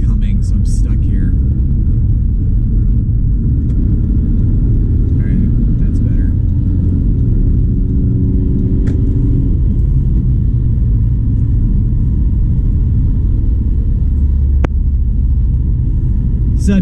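Steady loud road rumble from a car cruising an interstate highway behind a truck near a river bridge, continuous low drone with tire noise throughout.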